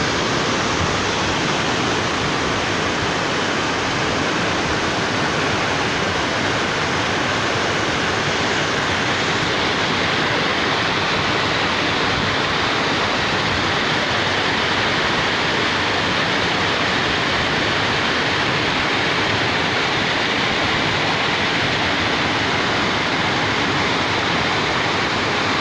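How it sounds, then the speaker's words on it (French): A waterfall in the Cirque de Saint-Même in the Chartreuse massif, heard from the front as a loud, steady, unbroken rush of falling water throughout. "et la cascade vue de face."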